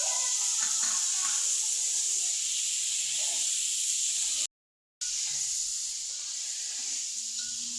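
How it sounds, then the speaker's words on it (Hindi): Chicken sizzles in a pot for a white karahi with black cardamom, a constant bright frying hiss with faint stirring, broken by one brief silent gap before the sizzle resumes. "मुझे इसकी भुनाई करते हुए। तकरीबन ये फ्राई हो चुका है"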